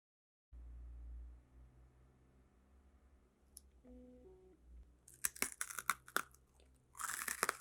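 Crunchy honey caramel candy is bitten and chewed up close, giving a run of sharp, loud crunches and clicks after a quiet stretch of faint background noise.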